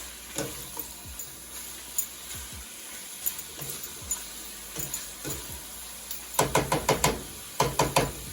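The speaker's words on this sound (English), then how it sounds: "So let that sear down a little bit more." Nacho ingredients searing in a hot pan give a steady, close sizzle, with scattered knocks and stirring clatter and a quick run of sharp taps near the end.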